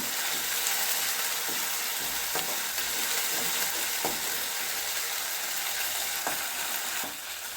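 Curry leaves and green chili sizzling in hot oil, a loud, dense crackling hiss throughout with intermittent sharp pops and spatters, close up.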